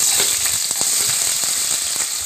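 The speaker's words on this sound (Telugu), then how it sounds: "బాగా దోరగా వేగిన తర్వాత ఆనియన్స్ వేసుకోవాలి." Whole spices and onions frying in oil for egg biryani, a loud, dense sizzle with crackling pops and occasional stirring scrapes, close and continuous with no voices.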